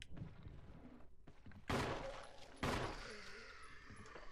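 Gunshots in the video game Resident Evil HD: two loud, sharp blasts about a second apart, each trailing into a ringing decay, over quieter game ambience with some earlier faint thumps.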